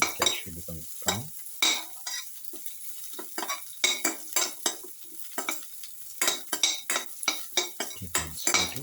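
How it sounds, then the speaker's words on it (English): Raisins and cashews stirred in a pan with a metal spoon, giving repeated scraping and clinking strokes in an irregular rhythm over a faint sizzle, close by and with no talk. "Keep on stirring."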